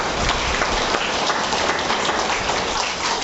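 Audience applause at a spiritual gathering in Charoda, Chhattisgarh, a dense, steady wash of many hands clapping throughout, close and fairly loud.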